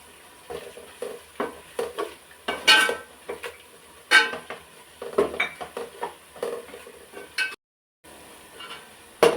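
Ginger and garlic sauté in a pan for chicken biryani, a soft sizzle broken by repeated scraping and stirring of a spoon against the pot, close and clear with no talking.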